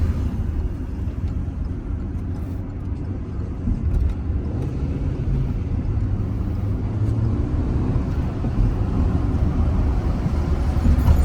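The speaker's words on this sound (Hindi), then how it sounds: "गाड़ी का इंजन कर रहा हूँ स्टार्ट" A car engine idles with a steady low rumble, running continuously and fairly close, with no talking.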